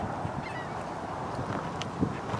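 Flocks of birds along a marshy greenway path with pluff mud in West Ashley, giving goose-like honks and calls scattered at a distance over a steady outdoor background.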